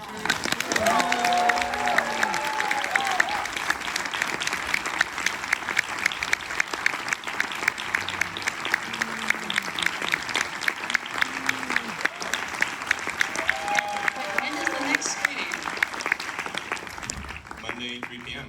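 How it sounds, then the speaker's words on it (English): A crowd applauds steadily for a long stretch, dense clapping filling the room, with faint voices and cheers rising briefly over it before it fades out. "let's give another round of applause"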